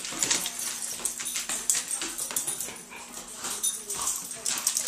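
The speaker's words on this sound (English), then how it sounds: "I want no more barking." A dog at a rainy camp whimpers and gives short yips throughout, fairly close, with a steady hum and other voices in the background.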